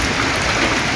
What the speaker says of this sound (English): it has been raining very hard